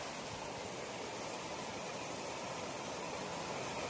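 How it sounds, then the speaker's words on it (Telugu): Rainwater streaming down the hillsides at Horsley Hills, heard as a faint, steady broadband rush of flowing water that holds even throughout with no talking. "చూడండి నీళ్ళు ఎట్లా వస్తున్నాయో."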